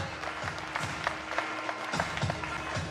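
Loud, sustained applause from an audience at a student award ceremony held by the Dagdusheth Halwai Ganpati trust, with dense steady clapping throughout and no talk.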